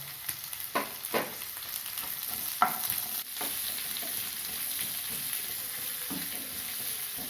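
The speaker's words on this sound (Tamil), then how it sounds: "இப்போ 3 வெங்காயம் பெரிய சைஸில் அரிஞ்சு வச்சுருக்கேன், இதை போட்டு வதக்கிக்கலாம்" Three onions cut into large pieces sauté in a hot pan for a spicy chilli garlic capsicum masala, giving a steady close sizzle with scattered stirring scrapes and no voices.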